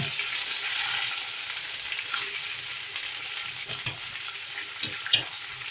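Onion, potato, coriander and green chillies fry in a pan with a steady, moderate sizzle, joined by a few close stirring scrapes and taps toward the end, and no talking.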